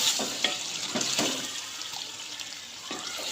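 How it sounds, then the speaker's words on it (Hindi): Water poured into a cooking pan of potatoes and minced meat splashes softly in short bursts, then settles into a faint simmering hiss. "मैं यहाँ पे 1 गिलास पानी का डाल दूँगी, ताकि आलू जो हमने डाले हैं वो कच्चे हैं अभी"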